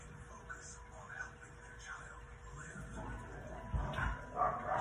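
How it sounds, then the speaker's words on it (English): Pet dogs scuffling and yipping in a home, with short bow-wow barks and whimpering growls rising toward the end, mostly mid-distance under a steady room background. "there go my dogs fighting"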